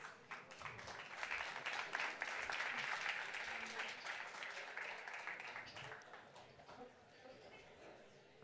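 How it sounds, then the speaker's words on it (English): Audience applause at a technology conference on circularity, a burst of many hands clapping that swells and then gradually thins out, heard fairly faintly and at a distance. "round of applause for you"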